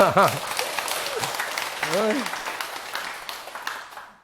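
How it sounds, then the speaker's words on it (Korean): A crowd claps steadily for several seconds after a brief voice at the start, the applause fading out toward the end. "박수 한번 치세요"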